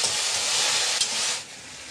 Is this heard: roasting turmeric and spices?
yes